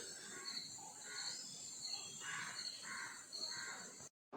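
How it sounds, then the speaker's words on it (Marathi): Morning birdsong outdoors: a few crows cawing repeatedly in a slow rhythm at a moderate distance, over a faint steady hiss, before a sudden cut to silence. "सकाळ सकाळी मस्त पक्ष्यांचे आवाज येत आहेत"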